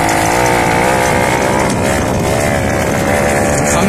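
A small two-stroke weed eater engine mounted on a bicycle runs loud and close, a continuous buzzing drone with a rough, rattling texture and no pauses.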